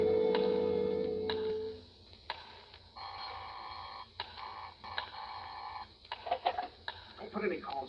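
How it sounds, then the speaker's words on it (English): An old-fashioned telephone bell rings in a 1947 suspense radio drama, one loud trilling burst at the start, followed by quieter clicks and a voice speaking. "But you know better than to ring the phone now."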